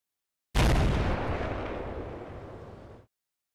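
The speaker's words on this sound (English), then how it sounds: "Hopefully that's just secondaries cooking off." A single deep explosion of ammunition cooking off as secondary blasts in the war game Combat Mission: Black Sea, booming suddenly and loudly, then rumbling and fading over about two and a half seconds.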